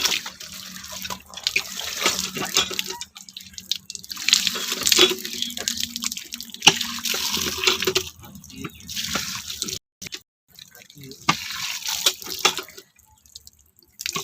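Water runs from an outdoor tap near a temple-like site, an uneven splashing and trickling flow that comes and goes with brief pauses, heard close.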